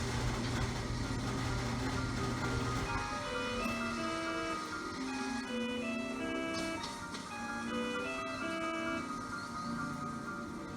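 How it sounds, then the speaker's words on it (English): A clothes dryer's end-of-cycle signal plays a short electronic melody of sustained tones, moderately loud over a steady background hum, with no talk. "That was the dryer that finished, in case you're wondering."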